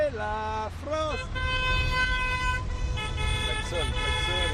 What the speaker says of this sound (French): Et klaxonne un peu.